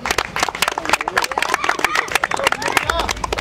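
Clapping from a gathered crowd honours a cricket team after a local match, a dense, steady patter of applause with chatter mixed in throughout.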